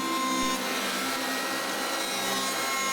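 Track saw cutting through warped, water-damaged oak floorboards near a wood beam, a steady loud continuous whine and grinding roar that lasts throughout, close up with no talking.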